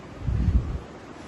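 Wind blowing across a balcony in cool, overcast weather, a short low gust rumbling against the microphone and then easing off.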